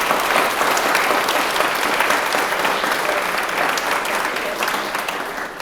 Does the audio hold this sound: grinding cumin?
no